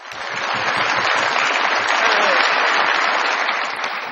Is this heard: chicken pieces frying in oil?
no